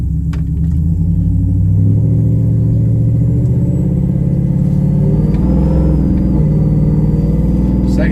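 GMC Yukon engine pulling while driving, a loud, close, low rumbling drone that rises gently in pitch and shifts tone over several seconds, with no one speaking.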